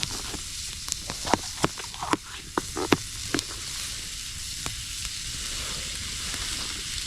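Food frying in butter in a pan at a winter campsite, a steady close sizzle with sharp crackles and pops scattered through the first few seconds, then settling into an even hiss.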